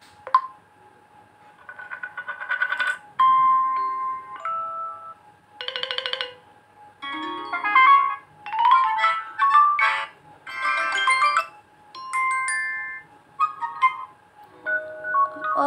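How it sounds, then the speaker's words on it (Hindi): Short ringtone and tone samples from a Vivo Y12 phone speaker: a series of bright electronic beeps, chimes and melodic snippets in separate bursts with gaps between them, moderately loud and heard alone. "जैसे कि मुझे ये सिंपल रिंगटोन पसंद आया है"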